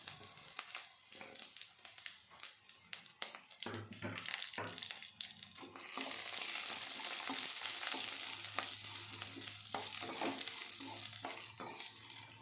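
Onions are fried in a pan with curry leaves and green chillies for a puffed-rice breakfast snack. Steady sizzle with stirring scrapes and rustles throughout, getting louder and denser about halfway in.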